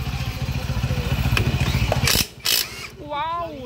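A noisy, rough motorcycle engine in Bayambang, Pangasinan idles with a rapid, rough, pulsing beat, then cuts out; two short bursts of noise follow before a person starts talking.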